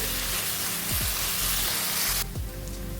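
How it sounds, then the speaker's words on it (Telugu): Ginger garlic paste and onions fry in oil with a steady, close sizzling hiss, interrupted by a few stirring scrapes; the hiss drops noticeably partway through. "అల్లం వెల్లుల్లిపాయ పేస్ట్ వేసుకొని పచ్చివాసన పోయేంత వరకు ఫ్రై చేసుకోవాలి"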